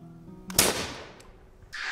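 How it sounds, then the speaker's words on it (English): A single arquebus blast, a sharp loud crack that decays over about a second with a faint rumble left behind. "people who had never heard the blast of an arquebus"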